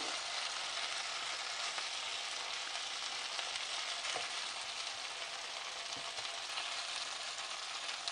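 Paneer cubes fry in an oiled pan while a dry chilli paneer starter is made. A steady, even sizzle holds throughout, with a faint clink or two from stirring, and no talk.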